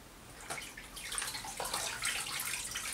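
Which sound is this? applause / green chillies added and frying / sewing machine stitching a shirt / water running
water running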